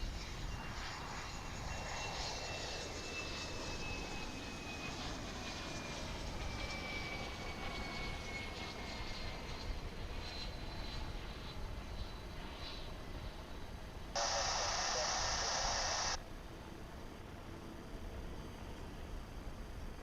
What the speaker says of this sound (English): It's an Embraer 145.